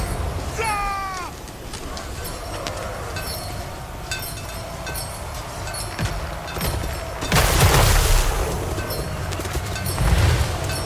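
Cannon fire in the battle game Total War Warhammer 3 booms under a dense wash of battle noise, with a loud blast about two thirds of the way through and another near the end.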